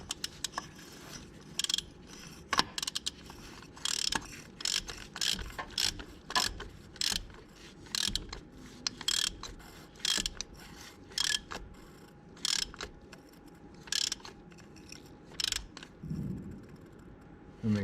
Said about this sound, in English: grab your tool, and we're going to go ahead and snug that down into place